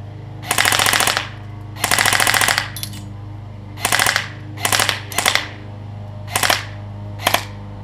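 An Elite Force M4 CQB airsoft rifle fires full-auto in loud rapid bursts: two long strings, then several shorter ones and single quick bursts, each a crisp mechanical clatter with a steady hum between.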